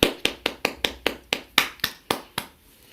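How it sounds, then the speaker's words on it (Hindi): Eleven crisp hand claps welcoming a guest in a steady, even rhythm, close and fairly loud, slowing slightly before stopping. "एक बार जोरदार तालियों से स्वागत करिए"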